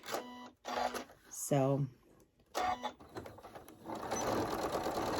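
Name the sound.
sewing machine back stitching a pouch seam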